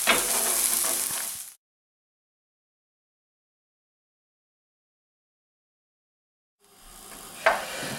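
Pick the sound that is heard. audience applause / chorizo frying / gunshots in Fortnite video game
chorizo frying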